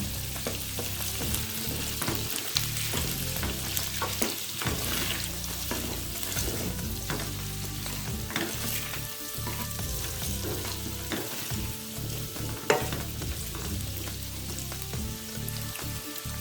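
Potatoes roasting in ghee in a pan give a steady, close sizzle broken up by frequent scraping and stirring clatter, with one sharp knock near the end and no voices.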